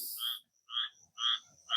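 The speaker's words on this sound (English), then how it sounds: "beautiful sound of those frogs this morning. You can hear them there in the reeds." Frogs croaking in the reeds at dawn at Back Bay National Wildlife Refuge, several short buzzy croaks with brief silences between them, close and clear with no voices.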